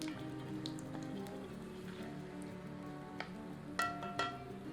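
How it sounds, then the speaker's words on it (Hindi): Bay leaves and whole dry spices sizzle in hot oil for a dry mushroom curry, giving a faint steady crackle with a few sharper pops and clicks toward the end, and no voices. "गर्म तेल में 1 से 2 तेजपत्ता और थोड़े से सूखे साबुत मसाले सम्मिलित करते हैं। इन्हें कुछ क्षण भून लेते हैं"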